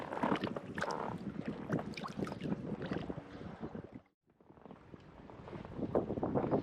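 Strong wind buffets the microphone on a boat out on a lake, a loud rumbling roar in gusts that drops to near silence for a moment before building again.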